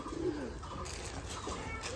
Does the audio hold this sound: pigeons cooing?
yes